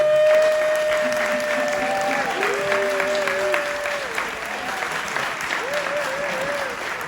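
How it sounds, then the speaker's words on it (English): An audience at a live performance claps for a performer, sustained applause with sliding tonal sounds and a voice running over it throughout. "we'd just like to give Tony a big round of applause on his left"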